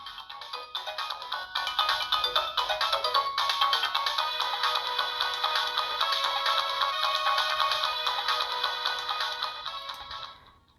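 Mario & Luigi Superstar Saga game music plays loudly from the speaker of a modded Game Boy Advance: bright, chirpy chiptune melodies with dense rhythmic notes, continuous for about ten seconds before fading out.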